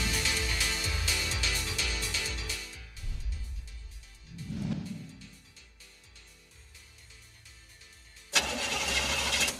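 A car engine struggles to start, cranking in a repeated rough chugging that sputters and dies away into near silence, then abruptly catches again in a loud burst.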